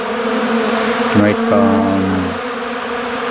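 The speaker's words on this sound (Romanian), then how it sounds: "Iată aici foarte mare activitatea. Iubitorii de albine înțeleg ce fac acum." Honeybees in February fill the air around a busy hive with a dense, continuous buzz, heard close and loud. Someone speaks briefly over the swarm midway through.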